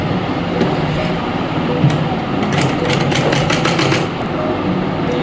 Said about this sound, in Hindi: इसके दोनों सिरों को फोल्ड कर लेंगे, दोनों सिरा ने मिलाकर ना और इस तरीके से इस पे सिलाई लगा देंगे